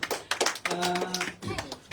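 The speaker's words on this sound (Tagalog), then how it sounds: "Isang palakpak na po na malakas sa ating Panginoon." Applause from a church congregation, a dense patter of clapping mixed with music and voices, continuing steadily throughout.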